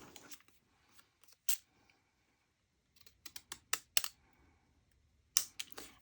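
Sharp crisp snips of scissors cutting paper, a few isolated cuts followed by a quicker run of several snips, close and fairly quiet.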